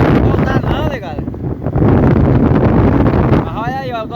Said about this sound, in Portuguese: como é que tá este vento?